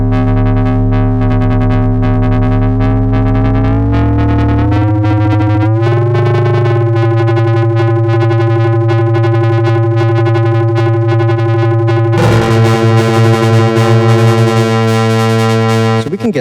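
Heavy distorted, modulated synth tones processed through the FAC PunchLab plugin, a loud sustained drone with shifting harmonics and a sudden brighter, grittier burst near the end.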